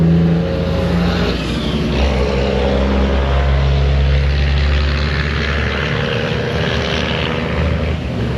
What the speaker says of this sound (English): The red truck made all that noise.